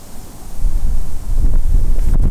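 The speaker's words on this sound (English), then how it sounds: "That was a big gust." A strong gust of wind buffets the microphone at an outdoor long-range shooting range, a loud low rumble that swells and holds steady for a couple of seconds.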